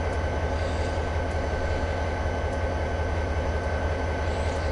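A steady, continuous rumble of a video-game train rolling along the rails on Cajon Pass, with a low droning hum and a faint high tone, no voices.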